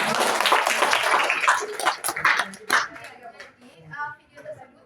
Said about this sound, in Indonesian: Tepuk tangan sekali.